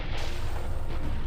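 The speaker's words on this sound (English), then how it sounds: "that explosion should do the trick" An underwater Kinesium charge goes off in the video game I Expect You To Die 3, a muffled, heavy low boom that fills the short stretch with rumbling, loud and without talk.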